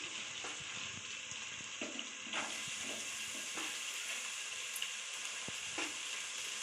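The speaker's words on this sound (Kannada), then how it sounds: "ಚೆನ್ನಾಗಿ ಫ್ರೈ ಮಾಡ್ಕೊಳ್ಳೋಣ" Onions sizzle and fry steadily in a hot pan for a chicken liver and gizzard gravy, with occasional scraping and stirring clinks over a continuous close hiss, and no voices.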